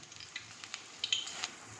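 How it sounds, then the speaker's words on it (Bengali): Fresh garden curry leaves frying in hot oil, a faint crackling sizzle with a few sharper pops near the end, no voices. "এবার এই যে কারি পাতা ভেজে নেব।"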